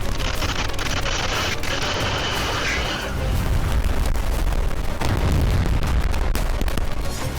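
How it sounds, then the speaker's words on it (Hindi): Explosions from a drone attack in Crimea, heard as a continuous loud, rumbling roar of blasts and booms with no clear gaps, distant and reverberant, with a harsher burst of noise in the first three seconds. "क्रीमिया में कई धमाकों की आवाज सुनी गई"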